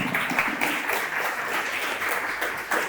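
Listeners at an urban watercolour lecture at FADU clap together, producing brief, steady applause of many hands at an even, moderate volume.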